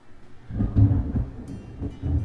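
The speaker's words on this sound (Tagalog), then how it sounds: "Lakas ng kulog." Loud low thunder rumbles and rolls close by, swelling and fading in heavy bursts with no talk over it.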